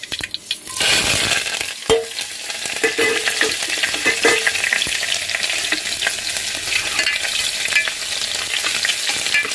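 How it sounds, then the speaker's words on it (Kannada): Mustard seeds spluttering in hot oil for a brinjal palya tempering: loud, close crackling and sharp pops over a continuous sizzle, sustained for several seconds without talk. "ನೋಡಿ, ಸಾಸಿವೆ ಸಿಡಿತಾ ಇದೆ."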